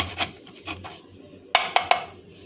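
Garlic cloves are rubbed finely against a kitchen grater, producing short rasping scrapes in a quick series, close and fairly clear, with three sharper strokes near the end.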